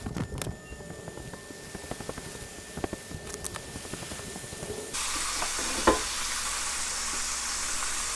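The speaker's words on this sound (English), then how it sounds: "they literally will cook for 1 minute until we get a tiny bit of browning" Pieces of red snapper fry in a pan with a steady close sizzle and scattered crackles and pops, which shift midway into a broader, brighter hiss.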